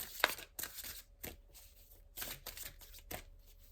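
A deck of tarot cards is shuffled and drawn close by, with crisp riffling bursts and papery slaps coming in quick uneven groups, with no talking.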